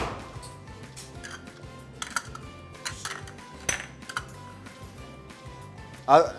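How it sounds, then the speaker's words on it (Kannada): Chopped onion, green and red capsicum and tomato tossed together in a bowl, with soft repeated clinks and scrapes of utensil and dish under quiet talk. "First onion, green capsicum, red capsicum ಹಾಗೂ ಟೊಮೆಟೊನ ಮಿಕ್ಸ್ ಮಾಡ್ಕೊಳ್ಳುವ."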